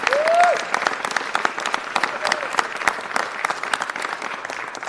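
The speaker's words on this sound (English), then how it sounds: "I want everyone to please give him a big round of applause." Applause at a city council meeting for a retiring department member, a moderate continuous patter of many hands, fairly distant, with a brief whistle-like tone near the start.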